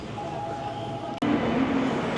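Interior of a modern Seoul metro train in motion, a steady rumbling ride noise with a faint tone that breaks off briefly and resumes with a louder hum, no voices.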